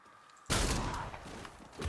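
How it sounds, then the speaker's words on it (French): A pump-action shotgun fires in Far Cry 6, one sudden loud blast after a quiet moment, then a broad crackling rush that slowly fades. "J'aime bien ce fusil à pompe."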